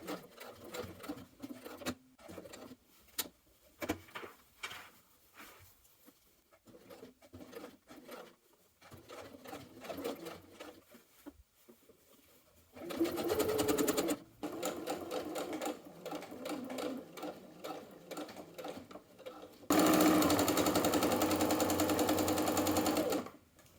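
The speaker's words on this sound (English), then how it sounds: "we're going to top stitch from the hem around the neckline and back to the hem on the other side to complete it" A sewing machine top stitches the hem of a bomber style jacket, its fast mechanical patter running in bursts with pauses, then settling into louder, steadier runs near the end.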